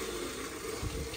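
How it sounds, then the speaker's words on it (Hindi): About twelve litres of water gush steadily into a large cooking pot of rice for chicken pulao, a continuous, fairly quiet pouring hiss with no talk. "12 किलो पानी डलेगा इसमें, 12 लीटर।"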